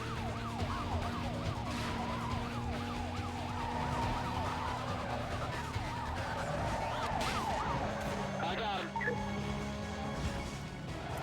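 Police siren wailing in Need for Speed: Most Wanted (2005) as a cop joins the chase, its rising and falling tone running steadily over a car engine's continuous roar throughout.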